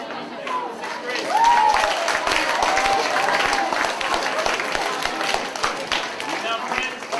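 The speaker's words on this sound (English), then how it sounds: "Another round of applause for the sixth grade." Sustained round of applause for sixth graders at a school academic assembly, crowd clapping mixed with some cheering and high voices, fairly close and steady throughout.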